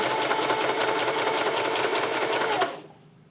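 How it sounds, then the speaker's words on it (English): A home sewing machine runs steadily stitching a straight seam, a fast even mechanical whir with rapid needle ticking held for over two seconds, then it stops and only faint room quiet remains. "And then you're just gonna sew straight along."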